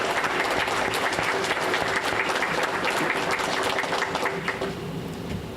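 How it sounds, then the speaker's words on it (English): Warm audience applause at a Masonic lodge bicentennial gathering, honoring the mayor and county sheriff. Dense, close clapping fills the whole stretch at a steady level and eases slightly toward the end. "Would you join me in giving them a round of applause?"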